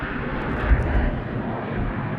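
A corporate jet takes off from runway 34 right at Sydney Airport, a broad, steady engine roar heard from a distance that holds at an even level throughout, with no talking.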